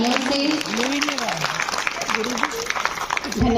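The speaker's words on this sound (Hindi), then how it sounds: "जोरदार तालियों से धन्यवाद करते हैं मलिष्का का।" Loud applause from the crowd at a Shiv Jayanti celebration, hands clapping in a thick continuous wash while a voice speaks over it near the start.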